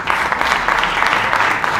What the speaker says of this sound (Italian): Per lui doppio applauso